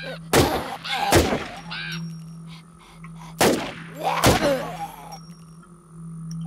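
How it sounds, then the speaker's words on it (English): Gunfire in the survival game War Z: four sharp, loud shots in two spaced pairs, each followed by a short ringing tail over a steady low hum. "I really don't want to be firing my gun right now"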